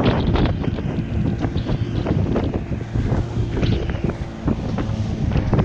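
Wind gusts buffet the microphone out on open water, rough and blustery with choppy waves, a constant loud rumble and no voices.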